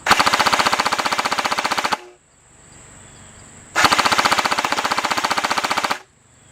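A T3 .30 cal airsoft machine gun fires two long, rapid bursts of evenly spaced mechanical shots, each lasting about two seconds and separated by a quiet pause, close and loud.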